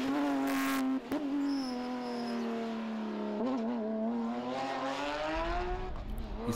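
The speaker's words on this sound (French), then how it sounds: "ce son, c'est le moteur d'une Porsche et celle de Glenn Janssens" Porsche GT rally car driven by Glenn Janssens in a Belgian rally championship round: high revving engine note sweeping up and down through gear changes, loud and close, with a brief crackle early on.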